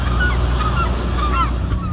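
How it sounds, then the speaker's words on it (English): Geese honking on the Homer Spit in Alaska, several calls overlapping close by over a steady wind-like background, with no one speaking. "Birds flying."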